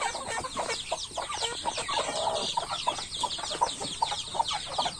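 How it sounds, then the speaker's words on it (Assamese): Several chickens cluck and squawk close by in a busy, overlapping chorus, with repeated sharp calls over a low background murmur. "এইবিলাক বান্ধি থৈ দিছোঁ মুৰ্গী মই"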